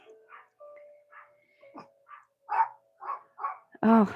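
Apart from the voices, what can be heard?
dogs barking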